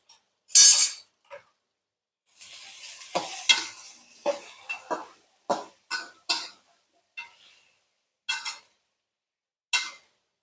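A pan of ridge gourd, tomato and green chili curry is stirred, with short bursts of scraping and clattering spoon strokes separated by near silence and a brief sizzle in between.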